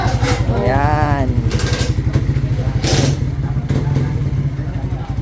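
A Suzuki Raider motorcycle engine running close by with a rapid, throbbing idle, rising in pitch as it revs around the first second, with people talking over the engine noise.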